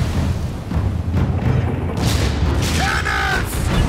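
Naval cannon fire in the pirate game Assassin's Creed 4 Black Flag, dense booming blasts and heavy thuds rolling over a constant rumble, with a shouted voice mixed in near the end.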